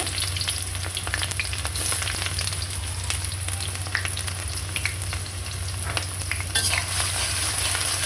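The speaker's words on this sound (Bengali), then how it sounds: "এটাকে একটু ভেজে নিব" Onions fry in oil in a pan with a constant dense sizzle over a low steady hum, faint occasional stirring ticks, close and even throughout, no voices.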